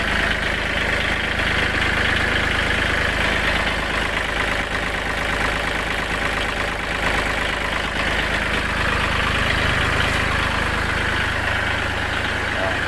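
A car engine idles steadily on a test stand after a timing belt adjustment, a loud, even, continuous hum with a fine rhythmic knock, while someone talks faintly over it.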